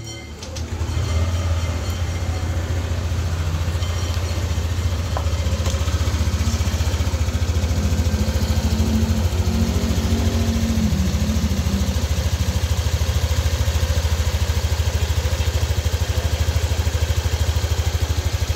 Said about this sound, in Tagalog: Ito na yung tunog ng makina ng NMAX version 2.